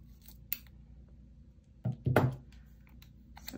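Close scissors cut through yellow paper, a short crisp snip followed by a longer slicing run, in a quiet room with no talking.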